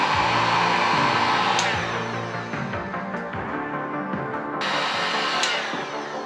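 A heat gun blows steadily on metal brackets in a workshop, a continuous loud airy whoosh with a slight dip in the middle before rising again, no talking.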